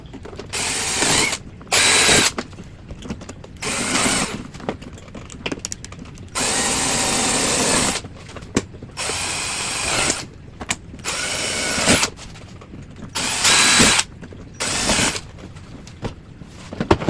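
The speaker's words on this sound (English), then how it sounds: "Now we'll pre-drill the rest of the holes and finish anchoring it down." A power drill whirs in repeated short bursts, some long and some brief, with pauses between as screw holes are pre-drilled close by to anchor a cage portal.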